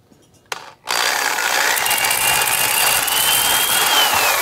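A hand drill cuts a groove into metal while working on a 1992 Mercedes W124 with an M103 engine: a short bump, then a loud, sustained high-pitched grinding whine that runs close and steady to the end.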